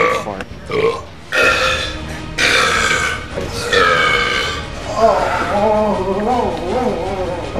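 Long, loud, drawn-out burps after gulping soda in a drinking challenge, several in a row with rising and falling pitch, close up, with people talking and reacting around them.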